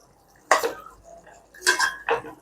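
A spoon scrapes and clinks against a pan while egg drumstick curry is stirred, three distinct metallic strokes separated by quiet gaps, close and clear.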